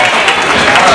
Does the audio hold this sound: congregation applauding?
yes